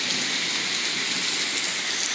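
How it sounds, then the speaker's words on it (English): Heavy hail falling outdoors, a dense, steady hiss of pellets striking surfaces with no let-up, loud and close, and no voices. "this is really bad hail"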